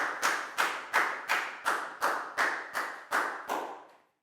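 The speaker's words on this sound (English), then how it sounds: "High five and a big round of applause for Pak Bung, please, guys." Ten crisp, evenly spaced claps in a classroom, each a sharp slap with a short decay, close and clear against near silence, ending in a brief hush.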